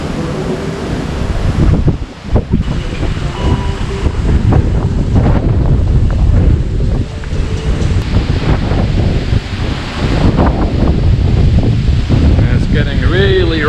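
Strong wind buffets the microphone in heavy gusts while rough surf crashes at a beach in Mexico during Hurricane Zeta, a loud, churning roar with brief dips between blasts.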